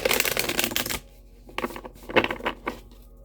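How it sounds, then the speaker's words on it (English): Large tarot-style cards are shuffled in a dense riffling burst, then after a short pause a few more separate flicks and riffles follow, close to the microphone. "But it's so hard to shuffle these things."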